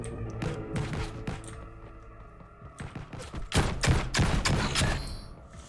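Gunfire from an Unreal Engine 5 Lyra shooter game crackles in bursts of close, sharp shots, a volley at the start and a denser stretch later, with no voices.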